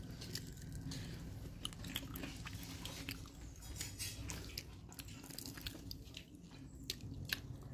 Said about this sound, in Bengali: ওই যে পিঠে বানিয়েছে আর এই মাংস রান্না করেছে আর আমি খাচ্ছি